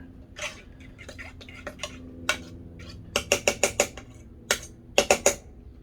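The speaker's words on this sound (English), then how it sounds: "Stir this all together." A metal utensil stirs fireman's breakfast casserole ingredients in a dish, producing a series of sharp clinks and scrapes that cluster into quick bursts of taps, close and without talk.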